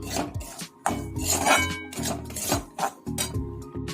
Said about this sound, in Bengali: কড়াইতে ছিল তেল আর আমি একটু দিয়ে দিচ্ছি সুজি